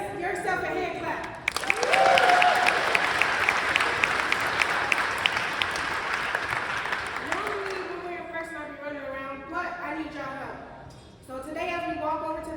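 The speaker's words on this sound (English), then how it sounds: "So give yourself a hand clap." A crowd at a Homeless Day on the Hill rally breaks into loud applause that lasts several seconds, then fades as a speaker's voice takes over.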